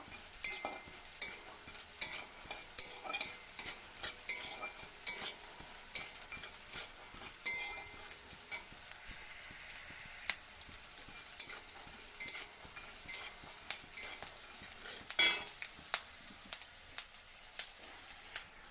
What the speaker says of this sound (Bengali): দেখুন তো এটা সামান্য তেল দিয়ে বাদামটাকে ভেজে নেব।